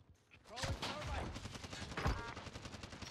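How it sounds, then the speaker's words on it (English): Automatic gunfire from a sentry gun in the Warzone video game, a rapid burst of shots that keeps going for about three seconds, loud and close, blending with other battle noise. "The sentry gun."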